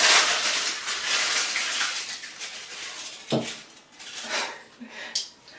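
Dry onion skins rustle and crackle as they are piled onto a small kitchen scale, a close, papery scratching with a few sharper crinkles and light knocks, no voices.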